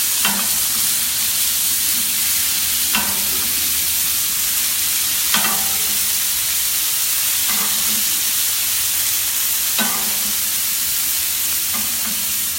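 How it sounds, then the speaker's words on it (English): Scallops basting in foaming butter in a hot skillet, cooked alongside steak and ham: a steady loud sizzle with spoon scrapes and clinks against the pan at regular intervals of roughly two to three seconds, with no talking. "just keep basting your scallops. Get that butter foaming."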